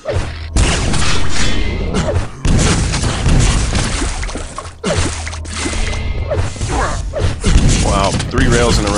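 Railgun shots and rocket blasts from a Quake duel, loud and dense, with rapid booms and crashes layered under a commentator's voice.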